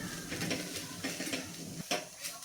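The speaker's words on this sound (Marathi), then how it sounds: "अर्धी वाटी डेसिकेटेड कोकोनट घालायचं आहे हे देखील मिक्स करून घ्यायचं आणि तेही परतून घ्यायचं आहे" Desiccated coconut being stir-fried in a pan, brisk scraping strokes of a spatula with light sizzling and occasional clinks against the pan, close and fairly quiet.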